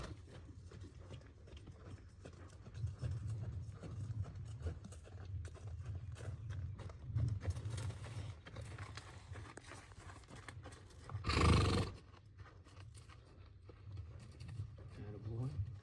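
A horse walks in a soft, muffled clip-clop rhythm while a trainer works it, with one louder thump partway through.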